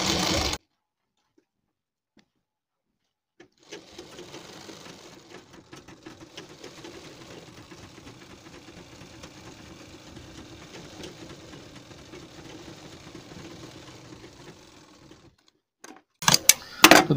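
A sewing machine runs steadily, stitching a half collar onto a garment neckline, a soft continuous rattling hum lasting about twelve seconds between quiet pauses, with brief handling noise at the end.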